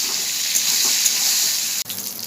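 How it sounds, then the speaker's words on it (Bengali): Steady, bright sizzling of eggplant frying in oil, with a few faint pops and a short scrape partway through. "এবার ভেজে নেবো ভালো করে।"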